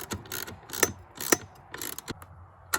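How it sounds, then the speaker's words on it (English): Bolts being tightened during assembly of an Earthway 2600A Plus spreader, a handful of short, close ratcheting clicks and metallic mechanism sounds in irregular bursts, with no voices. "we'll go ahead and tighten down these bolts"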